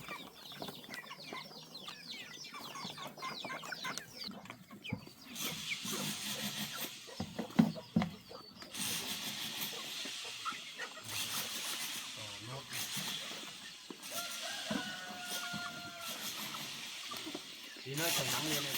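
Chickens clucking on a farm at an overcast, intermittently sunny spot, scattered soft clucks mixed with background activity and people talking nearby.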